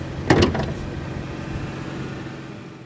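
Near the start, the hood release of a 2015 Porsche Macan Turbo gives a short sharp clunk, followed by a faint rustle and quiet ambient hum.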